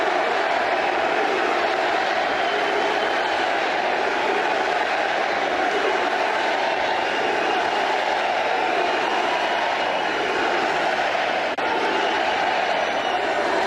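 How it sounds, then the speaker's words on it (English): Large crowd roaring at a Donald Trump rally in Erie, Pennsylvania as he takes the stage, a steady, dense wall of cheering and shouting that stays loud and unbroken throughout. "The roar of the crowd."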